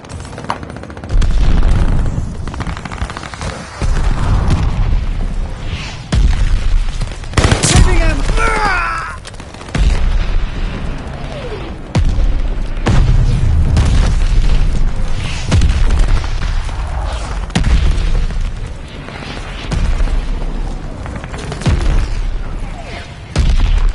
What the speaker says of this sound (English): Enemy shells come.